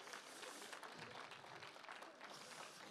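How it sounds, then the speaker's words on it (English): Continuous crowd applause from a church congregation at a young adults' worship service, many hands clapping together in a dense, even wash with faint voices underneath. "clap for yourself"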